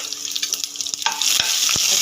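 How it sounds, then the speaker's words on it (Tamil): Mustard seeds and urad dal fry in hot oil for a mango dish, giving a close, bright sizzle that swells after a second into steady crackling, with a few sharp pops and stirring taps. "தேவையான அளவுக்கு எண்ணெயை ஊற்றிக்கிட்டு கடுகு, உளுத்தம்பருப்பு சேர்த்துக்கலாம்"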